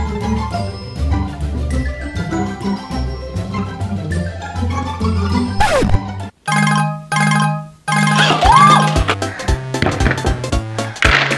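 A mobile phone ringtone plays loudly as a repeating electronic melody, breaking into short bursts with brief gaps partway through. No one speaks.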